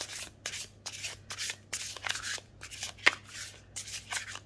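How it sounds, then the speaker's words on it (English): Oracle cards being shuffled by hand in quick repeated riffling bursts, about a dozen crisp papery rushes, close up with no talking. "And it's not too big, so I can shuffle"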